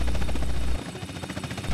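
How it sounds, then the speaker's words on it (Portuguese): A helicopter in GTA San Andreas comes down onto an airstrip, its rotor producing a loud, steady rhythmic chop that runs the whole time, with a deep low thump that drops away partway through. "eu tá pousando meu helicóptero"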